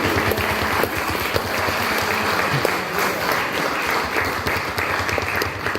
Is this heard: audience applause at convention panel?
yes